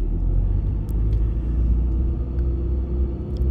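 A car drives along a narrow country lane in Guernsey, giving a steady low engine and road rumble from inside the cabin with no break or change in level.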